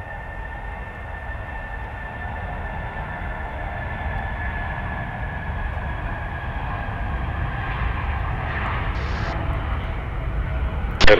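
An Air Serbia airliner takes off from the runway at Belgrade airport, its engine roar a steady broadband rumble with a thin whine that swells gradually, heard from a distance, ending in a brief sharp click.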